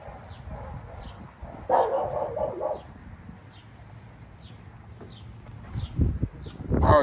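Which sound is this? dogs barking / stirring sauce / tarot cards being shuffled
dogs barking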